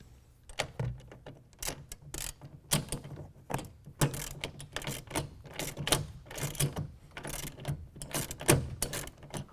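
Ratchet clicking in quick, irregular bursts while a 9/16 bolt on the head rail of a Gator SR2 roll-up tonneau cover is tightened, close by and fairly quiet, with no talk.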